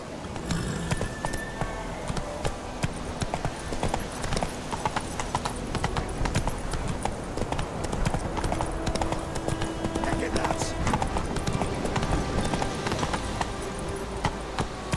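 A horse trots steadily on firm ground in The Witcher 3, its clip-clop hoofbeats close and rhythmic throughout, with game ambience underneath.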